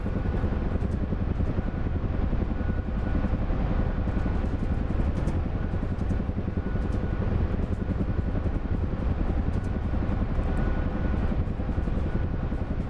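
A UH-1 helicopter flying over jungle in a VR combat game, a steady, loud droning rotor and engine noise with a fine rhythmic chop, continuous and unchanging throughout.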